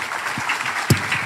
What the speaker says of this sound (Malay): Tepuk tangan untuk Datuk Sri